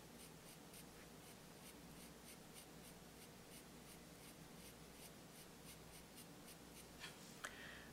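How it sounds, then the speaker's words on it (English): A charcoal pencil drawing on paper, producing rhythmic scratchy strokes repeated steadily and close up, quiet and alone. "take my charcoal pencil."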